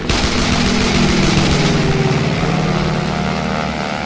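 Continuous loud rattle of Vickers machine guns firing from a fighter plane against a Fokker, a dense unbroken burst over steady engine drone.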